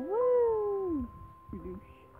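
A cat in the video game Highschool Simulator 2018 meows once in a long, rising-then-falling cry, followed after a pause by a shorter, softer meow.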